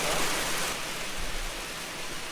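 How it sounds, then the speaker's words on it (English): Steady rain falling outdoors, a continuous broadband hiss of drops without pause, fairly close and even throughout, with no voices over it. "Outside in the rain."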